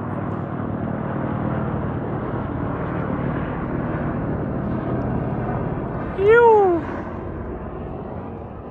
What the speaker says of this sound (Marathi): या ठिकाणी ना तुम्हाला असे हेलिकॉप्टर्स सारखे पाहायला मिळतील, कारण इथं आर्मीचा बेस कॅम्प आहे